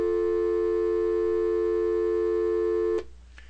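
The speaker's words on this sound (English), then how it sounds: "the second tone for a dial tone is 350 hertz" A steady synthesized sine-wave telephone dial tone, including a 350 Hz component, holds for about three seconds, then cuts off abruptly, leaving a couple of faint clicks.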